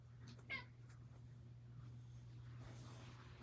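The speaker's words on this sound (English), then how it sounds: "There's my cat." A single short cat meow sounds close by in a garage over a steady low electrical hum, followed by quiet background shuffling.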